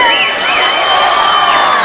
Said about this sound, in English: he's getting a standing ovation right there